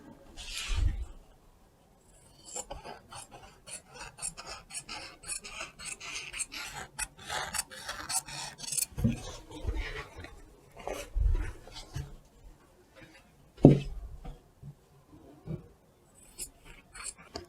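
Scissors cut through fabric along the seam allowance of a wide-pants pattern piece, giving a quiet, irregular run of rasping snips and sliding scrapes with brief pauses and one sharper knock near the end.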